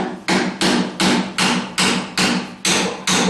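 A hammer pounds repeatedly on the bevelled end of a strut rod bolt on a 1976 Corvette rear suspension, eight evenly spaced loud metallic blows, each ringing briefly before the next.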